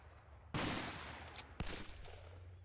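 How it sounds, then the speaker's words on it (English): Gunfire in the video game BattleRush comes as two sharp close shots, each followed by a long rumbling decay over a low background hum, with no talk. "Someone's shooting at me."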